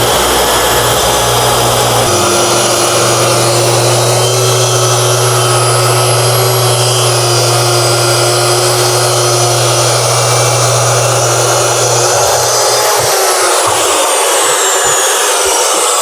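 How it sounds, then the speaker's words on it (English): A plunge saw cuts across the end of a wooden tabletop with a loud, sustained whine that holds steady, then winds down and cuts out near the end. "Let's plunge this in there and make our cut all the way across the end of our tabletop."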